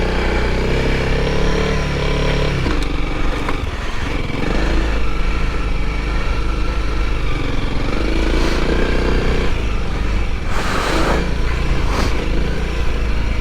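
A Honda CRF300L motorcycle ridden off-road, its engine droning loud and close throughout with shifting revs and bursts of wind and rough-ground noise.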